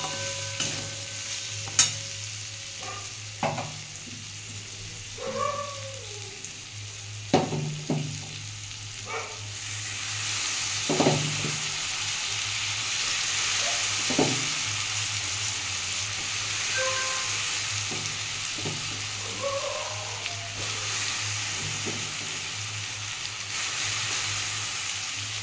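Chopped vegetables and moong dal are stir-fried in a pan for oats khichuri, with a soft, steady sizzle broken by close, intermittent scrapes and clanks of stirring, and no talking.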